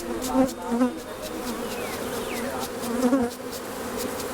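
Honeybees buzzing steadily and loudly up close as they are brushed off a frame, with the drone wavering in pitch and no talk.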